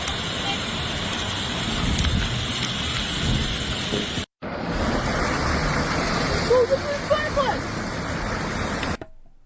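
Heavy rain in a thunderstorm flooding a Saskatoon highway in Canada, where drains failed and cars sank, rushes as a loud, steady roar through most of the stretch, broken by a brief dropout and an abrupt cut near the end.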